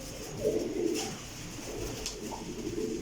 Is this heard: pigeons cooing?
yes